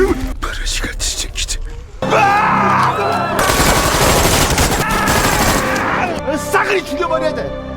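Heavy gunfire erupts in a film scene, dense bursts and rapid volleys sounding loud and close after a short quieter stretch with scattered sharp hits, with groans and whispery voices mixed in.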